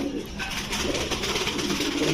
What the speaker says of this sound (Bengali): সুন্দর কবুতর